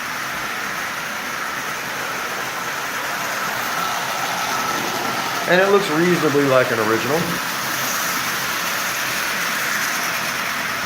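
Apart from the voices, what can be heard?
Marx 999 toy train engine running around the track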